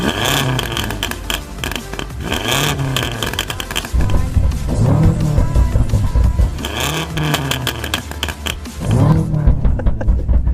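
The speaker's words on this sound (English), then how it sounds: "this BMW is also fitted with a noisier exhaust, so have a listen to this" BMW M5 tuned to 800 hp with a louder aftermarket exhaust, revved hard in repeated bursts, loud and close, with sharp rising and falling engine sweeps and crackly exhaust roughness between blips.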